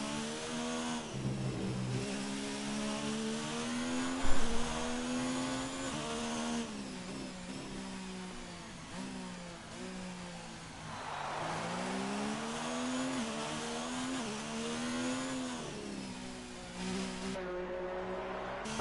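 Racing car engine in a wet Grand Prix at Spa-Francorchamps in a racing video game, a steady whining drone rising and falling through gear changes, moderately loud and continuous with no talk.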